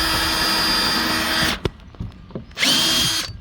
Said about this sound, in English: That's just gonna guide the screw in so the board doesn't split any worse.